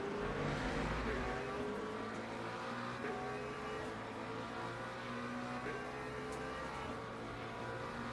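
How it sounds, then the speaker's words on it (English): Hypercar engine from the racing game Le Mans Ultimate, a steady loud droning whine with shifting pitch that runs continuously and close throughout without a clear break. "Gotta love these hypercars."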